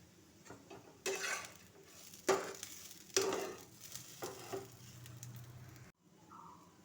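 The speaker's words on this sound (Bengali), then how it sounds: "বাসমতি রাইসটা কিছুক্ষণ ভেজে নিতে হবে। বাসমতি রাইস কিছুক্ষণ ভাজা হয়ে গেলে এবারে দিতে হবে কাজু ও কিশমিশ।" Basmati rice fries with cashews and raisins in a pan, giving a soft, quiet sizzle broken by several brief scraping bursts of stirring.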